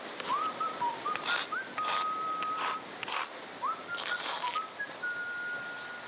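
A man whistles a lilting melody in short phrases, with one long held note in the middle, clear and close over faint room noise.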